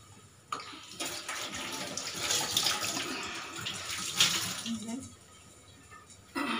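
Water splashed by hand onto a damp cloth covering spicy bajra bhakri flatbread on a griddle, a soft wet spattering and hiss that rises for a few seconds and then settles, fairly quiet and close.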